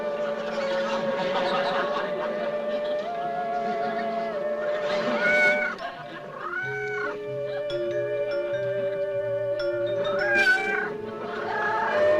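A cat yowls and meows in long, drawn-out, wavering cries that rise and fall, loud and close, with a few chuckle-like sounds mixed in.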